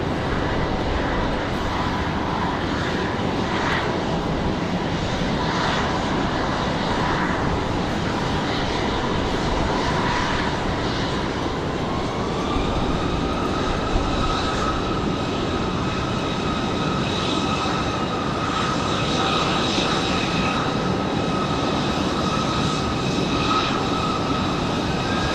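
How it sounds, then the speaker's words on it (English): Airbus A321 airliner departing Raleigh-Durham International toward Charlotte, a sustained loud jet engine roar with a rising whine that settles into steady tones midway, no voices. "Got our A321 off to Charlotte."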